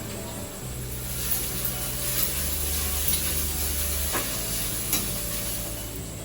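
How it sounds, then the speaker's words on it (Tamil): Steady sizzling of green chillies and vegetables sautéing in hot oil in a pan, with occasional stirring scrapes and clinks, no talking. "அடுத்து இப்போ பச்சை மிளகா வதக்குறோம்"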